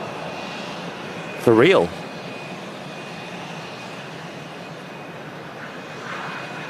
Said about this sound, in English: including a Virgin Atlantic A350 1000. I think she's lining up right now on the runway.